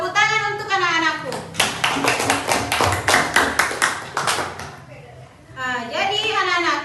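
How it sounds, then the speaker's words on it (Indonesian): Children in a classroom clap for their group, a steady run of sharp, rhythmic hand claps lasting a few seconds, with a teacher's voice before and after. "Tepuk tangan untuk anak-anakku"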